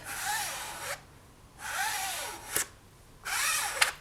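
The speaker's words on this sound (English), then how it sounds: "Then I'll bring over a card, and we're going to swipe." A card swipes across polymer clay three times in steady rhythm, each a soft close scraping rasp lasting about a second, separated by short quiet gaps.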